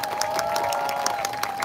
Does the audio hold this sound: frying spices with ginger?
no